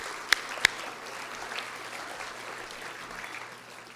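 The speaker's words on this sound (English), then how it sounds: "they deserve another round of applause" An audience at a port event gives applause to elected officials and office holders, a steady wash of clapping lasting throughout with two sharp louder claps standing out near the start.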